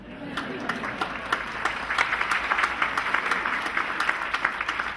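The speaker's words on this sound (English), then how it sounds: "you may applaud" An audience at a university ring ceremony applauds the hiring of a new football coach, a dense patter of many hands clapping steadily, with a voice speaking partly over the applause.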